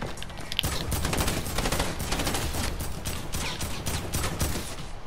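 A new gun fires in a video game, a loud, close burst of rapid automatic shots in a dense, continuous rhythm that lasts several seconds.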